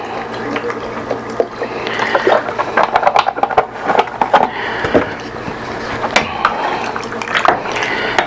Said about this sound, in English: I think I'll go ahead and add a little more beef stock.